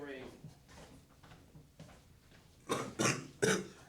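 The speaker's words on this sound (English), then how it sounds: "Don't mind my cough." Three loud, close coughs in quick succession near the end, following some faint quieter sounds.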